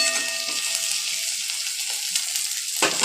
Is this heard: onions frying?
yes